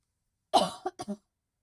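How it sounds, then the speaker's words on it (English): A single close, dry cough followed by a couple of quick smaller coughs, then silence. "I just have a cough"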